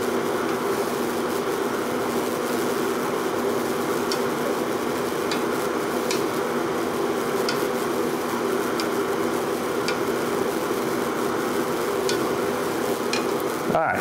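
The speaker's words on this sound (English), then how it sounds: "What we want to do is bring this up to a simmer." Pumpkin pie moonshine mixture warming in a pot toward a simmer, a steady dense hiss and low rumble of heating liquid that holds evenly throughout, with a few faint ticks near the end.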